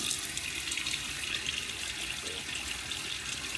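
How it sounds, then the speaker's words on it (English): A bathroom tap runs in a steady hiss as water wets a face before shaving, continuous and close, with no talking. "Let me get my face wet real quickly."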